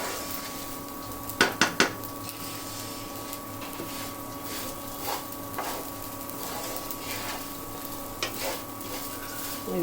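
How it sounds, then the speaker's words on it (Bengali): Rice for beef biryani fries in a pot with a low, steady sizzle, punctuated by a quick burst of metal clinks and occasional stirring scrapes against the pot; close, with no voices. "এইভাবে আরও 5-6 মিনিটের মতন ভেজে নিতে হবে, মানে যতক্ষণ না চালটা ভাজা হচ্ছে"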